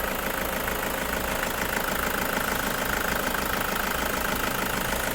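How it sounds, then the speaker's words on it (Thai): A 2013 Toyota Commuter van's 2.5-litre diesel engine idles smoothly and steadily, a continuous close-up clatter and rumble with an even rhythm and no speech. "สตาร์ทเครื่องยนต์อยู่นะคะ เครื่องนิ่งมากเลยค่ะ"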